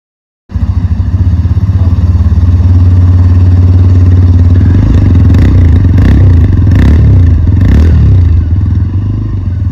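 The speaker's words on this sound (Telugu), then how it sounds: "నెక్స్ట్ ఈ బైక్ లో ఎగ్జాస్ట్ సౌండ్ కూడా వినడానికి చాలా బాగుంది" A TVS Raider 125 motorcycle starts and idles close by, its exhaust giving a loud, steady low thrum, with a few quick throttle blips partway through before settling back.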